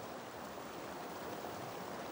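Steady broadband rush of waterfalls and streams in the Poranga Valley of Itatiaia, Brazil, a continuous even wash of falling water with no other sounds.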